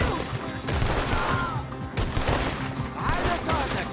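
Gunfire in Red Dead Redemption 2 at a modest homestead, a dense continuous fusillade of overlapping shots with rumbling echoes, moderately loud and steady throughout.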